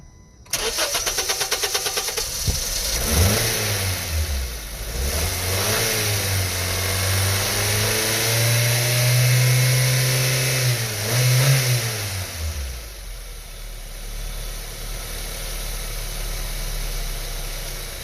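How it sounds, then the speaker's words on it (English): A 2013 Honda Civic engine, with carburetor cleaner sprayed into its intake, cranks and catches, then revs up and down in a few swells before settling into a steady idle, loud and close with no talking. "Put the step on the gas halfway, starts right up."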